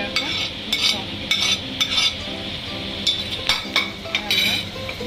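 Spice masala being stirred with chopped tomatoes in a pan for Bengali-style mixed dal tadka, with repeated metallic clinks and scrapes of a spoon against the pan over a low background.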